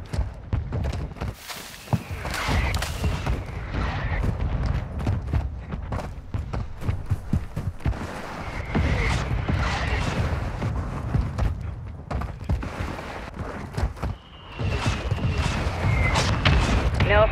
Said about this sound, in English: Copy. Mortar strike inbound now.